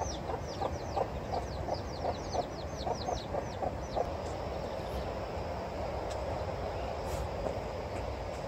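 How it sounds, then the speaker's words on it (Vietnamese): A flock of chickens with chicks clucks at dawn outdoors at a temple, a series of short rhythmic clucks and peeps over a steady rumbling background, fading after a few seconds. "Ủa có đàn con, đàn gà. Một đàn gà luôn."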